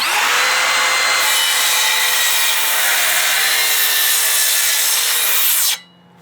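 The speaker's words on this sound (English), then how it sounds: "up first, Makita for the cross cut." A Makita cordless saw makes a cross cut through wood: a loud, continuous buzzing, rasping cut that lasts about six seconds and then stops abruptly, with no talking.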